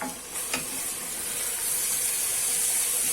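Meat and beans sautéing in a pan with a steady, loud sizzle and hiss, a brief stirring scrape near the start, no voices.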